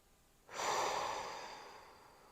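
A single long exhale during a back stretch, a soft breathy rush that begins suddenly and slowly fades, close and quiet with no talking.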